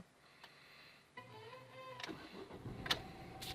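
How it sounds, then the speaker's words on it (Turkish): A Ford Fiesta MK7 car engine cranks and starts up nearby, a few short clicks and whirs building into a steady idle rumble over a few seconds. "Aracı çalıştırdım."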